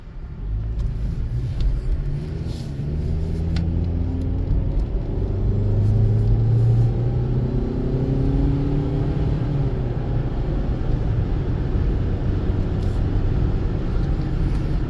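A 2018 Toyota RAV4 pulls away smoothly and keeps driving through a parking lot, a steady low engine and road rumble that swells slightly as it gathers speed, close and continuous with no talk.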